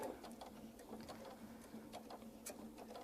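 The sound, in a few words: sewing machine stitching a quarter inch seam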